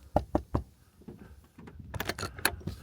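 Knocking on the door of a camper built onto a Jeep Gladiator: three sharp raps up close, then softer rustling and a quicker cluster of taps and knocks.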